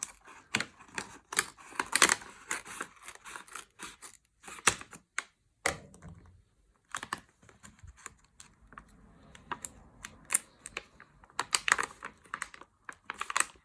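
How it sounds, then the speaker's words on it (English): Tamper-resistant packaging around a Hodlr metal seed backup disk is pried and torn open in a flurry of close, sharp crinkles, clicks and snaps, with a short pause in the middle before the tearing starts again. "I'm going to get into this tamper resistant packaging and get right into the device"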